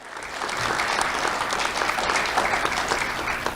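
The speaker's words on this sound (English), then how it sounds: "Let's have a round of applause for Mary, Norm, John, and Jeff." A crowd applauds steadily at an awards ceremony, dense sustained clapping from a seated audience, fairly close and full, with no talking over it.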